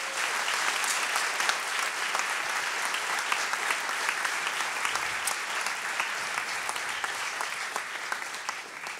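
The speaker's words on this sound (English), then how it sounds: "So give them a round of applause." An audience applauds a student orchestra at an arts celebration, a full, sustained wash of many hands clapping, steady and moderately loud for the whole stretch without speech.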